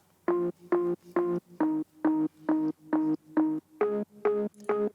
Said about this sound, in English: Then next I have an organ plug, and it's this one.